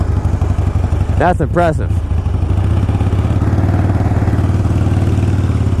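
A 1983 Harley-Davidson Ironhead XLH 1000 motorcycle starts cold and settles into a loud, steady, lumpy idle with rapid pulsing. A short spoken remark sits over the first revs.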